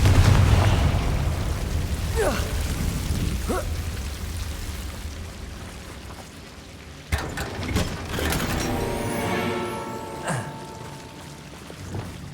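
Fire spell explosions in the video game Hogwarts Legacy, with several sharp bursts and booms over a steady low game ambience, louder cracks near the start and a cluster of blasts in the later half.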